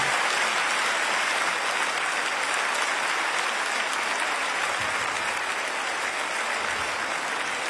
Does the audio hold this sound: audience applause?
yes